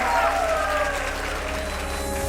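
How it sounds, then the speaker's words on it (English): Audience applause for speaker Josh Davies fills the room, a steady dense wash of clapping that holds at an even level throughout, with a faint voice and some tonal sound beneath it. "Let's give Josh Davies a warm round of applause."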